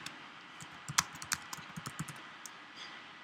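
Quiet, close keystrokes on a computer keyboard, a short run of irregular clicks with a couple of firmer taps, then fading.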